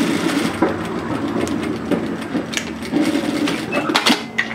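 A sewing machine runs continuously, stitching through two layers of fabric on a jacket seam, its steady mechanical whir and rapid clatter carrying without pause for several seconds, close and moderately loud.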